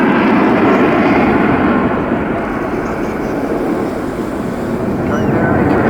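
A Eurofighter Typhoon jet climbs at an English Riviera airshow with its afterburner fully lit, giving a loud, continuous roar that dips slightly in the middle and swells again.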